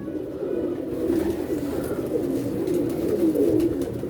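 A pigeon cooing up close, soft low throaty coos repeating in a steady rolling rhythm over a faint background hiss, with no talk.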